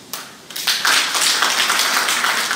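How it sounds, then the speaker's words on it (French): An audience at a pan-African artisans' gala dinner bursts into applause, a few first claps swelling within a second into full, steady clapping that holds at close range. "que je vous demande d'applaudir"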